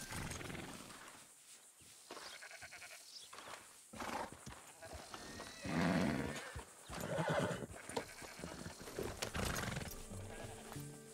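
A horse whinnies loudly over steady clip-clopping hooves in Red Dead Redemption 2, with game music and ambient noise underneath.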